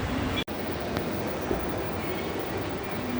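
A Kochi Metro train carries on a steady, moderately loud rolling rumble from inside the carriage, with one brief dropout near the start. No one talks.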